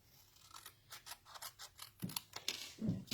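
Scissors snip through paper sentiments in a quick run of short, crisp, close cutting strokes, quiet and with no talk.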